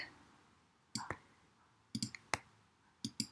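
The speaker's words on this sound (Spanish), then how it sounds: "Otra vez un clic." Computer mouse buttons click during work in Adobe Illustrator, sharp close clicks in quick pairs spaced about a second apart over quiet room tone, with no talk.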